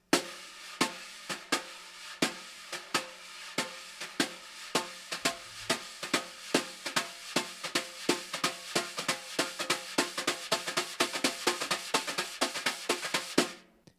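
A drum kit plays a steady swing pattern, with the ride cymbal's spang-a-lang over snare strokes, evenly paced and continuous for about fourteen seconds at a moderate level.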